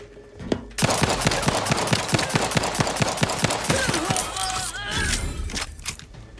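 A turret in Outer Worlds 2 fires through a wall: rapid, evenly spaced automatic shots in a long burst after a brief quiet start, loud and near, tapering into debris and a softer tail.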